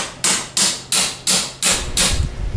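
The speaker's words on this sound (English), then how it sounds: "give the end of the wrench a couple slight taps lightly with a hammer" Six light, evenly spaced metallic taps of a hammer striking the end of a box-end wrench during a 37MT rebuild, each a crisp close ring that quickly fades, alone with no talk.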